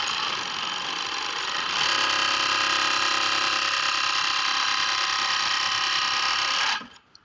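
An overlock sewing machine runs continuously with a dense mechanical whir, stepping up in intensity after a couple of seconds, then stopping abruptly near the end; close and loud, no talking.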